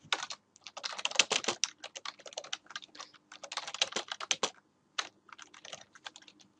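Brisk typing on a computer keyboard, close and fairly quiet, with quick runs of key clicks broken by short pauses.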